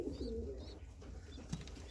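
Pigeons cooing in a pigeon loft, a few soft, low throaty coos close by at the start, followed by quieter rustling and a brief sharp click.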